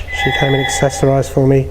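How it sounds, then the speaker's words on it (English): A telephone rings indoors in a home, a loud, close, repeated electronic warbling tone in short bursts, with someone talking over it. "That's the phone."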